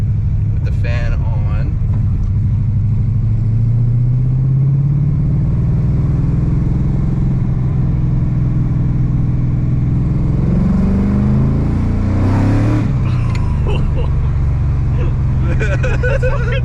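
A BMW E46 with an LS V8 swap on its first drive, fresh exhaust fitted, pulls with a loud, deep engine drone that climbs in pitch, eases off, then revs up again, heard from inside with voices talking over it.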